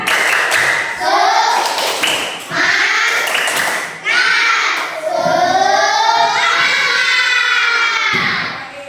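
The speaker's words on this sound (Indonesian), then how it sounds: "kita akan melakukan refleksi, yaitu dengan tepuk semangat." Students in a classroom performing the tepuk semangat clapping chant, with rhythmic group claps and chanted children's voices, loud and close, in repeated bursts.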